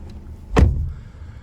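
A car door on a 2022 Honda Civic Sport 2.0 opens for the rear seat with a single sharp clunk and a short rumbling tail, close and clear against quiet background noise.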